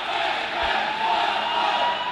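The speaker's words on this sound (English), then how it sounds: "Yeah, you can probably hear them getting ready to go." Roller derby teams at a France vs Germany track match shout and cheer together in their huddles, a continuous roar of many voices heard at moderate distance, steady for two seconds.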